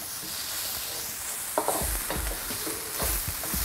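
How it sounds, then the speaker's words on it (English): Dried shrimp stir-fried quickly in a pan for Malaysian stir-fry vegetables sizzle steadily while a utensil scrapes and knocks in rapid bursts, close and fairly loud. "I'm just keeping things moving pretty quickly so nothing gets burnt while we cook the shrimp down a little bit"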